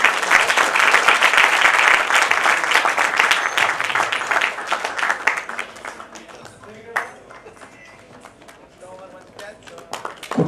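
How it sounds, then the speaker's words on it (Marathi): Audience applause at an agricultural cultural folk-art programme, loud sustained crowd clapping that gradually thins and fades over several seconds, leaving scattered claps and faint background voices toward the end. "सगळ्यांनी जोरदार टाळ्या वाजवा"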